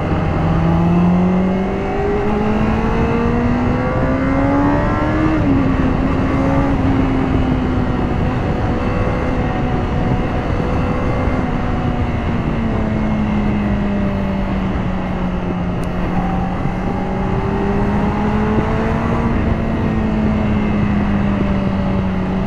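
A 2018 Honda CBR600RR sport bike engine revs high and loud, its pitch sliding up and down in long continuous sweeps throughout, with no talking.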